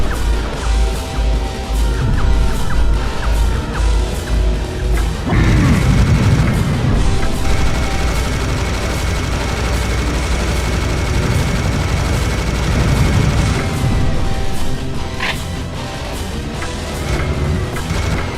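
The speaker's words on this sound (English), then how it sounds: "His missiles are so ridiculous." Loud, continuous barrage of booming blasts and crashing explosions as a boss fires missiles in Serious Sam HD, heavy impacts piling over a dense, roaring game soundtrack.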